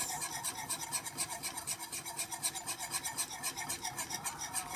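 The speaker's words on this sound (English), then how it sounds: "we're going to grab the flour, sprinkle it in, and then we're going to mix it up like this" Flour being stirred into apple pie filling gives a quiet, rhythmic scraping and rubbing, with about five regular strokes per second repeating steadily and no voices.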